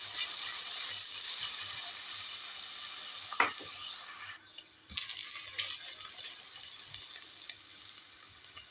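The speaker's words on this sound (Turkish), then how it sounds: "Kavurmaya bırakıyorum soğanımızı." Steady sizzling of chopped onion sautéing in olive oil, with occasional stirring clinks and scrapes, close and continuous.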